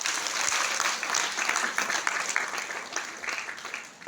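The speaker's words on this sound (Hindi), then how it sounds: "प्लीज इनके लिए एक जोरदार ताली." Audience at a business meeting giving a strong round of applause for the host, a full crowd clapping with a slightly uneven, pulsing texture for the whole stretch.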